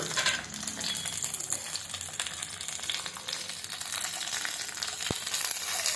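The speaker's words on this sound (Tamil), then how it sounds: "அடுப்பை மீடியம் ஃப்ளேம்லேயே வச்சு கத்திரிக்காயை நல்லா வறுத்தெடுத்துக்கலாம்." Brinjal pieces fry in hot oil over a medium flame, giving a steady, even sizzle with no talking and a single sharp click near the end.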